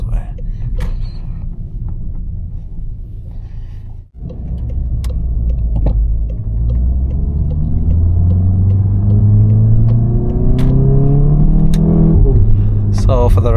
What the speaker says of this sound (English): we're just basically going to be driving in town